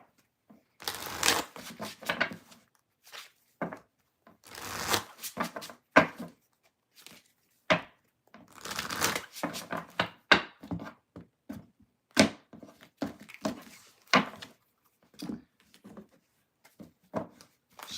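Tarot cards being shuffled by hand, repeated crisp riffling bursts and soft slaps in irregular clusters with short pauses between, close and alone with no talk.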